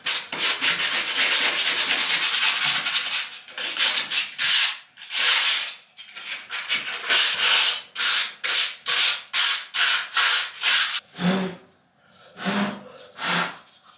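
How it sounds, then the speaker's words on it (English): Sandpaper rubbed by hand across a wooden door, a long continuous scrub followed by a run of short, rhythmic back-and-forth strokes, close and clear with no talking. "I've done what I can with the sanding."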